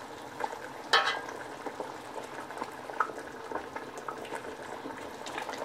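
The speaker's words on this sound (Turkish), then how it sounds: "Kısık ateşte yaklaşık bir 2-3 saat kadar kaynatacağız." Hatay-style pumpkin dessert simmers in a pot over low heat, giving a steady soft bubbling with small pops and a few louder knocks, close and continuous without talk.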